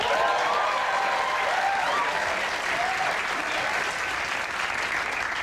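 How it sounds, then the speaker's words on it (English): A late-night television studio audience applauds in a sustained, even roar of clapping, with faint cheers and whoops rising above it early on. "Did you hear how they clap?"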